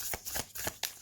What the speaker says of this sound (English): Let's see how the cards, they shuffle beautifully.